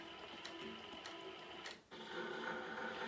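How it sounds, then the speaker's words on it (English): An embroidery machine lays tie-off stitches on applique fabric, a steady rapid mechanical whirr with faint ticks that briefly dips, then resumes. "it does a tie off and it does 3 little stitches"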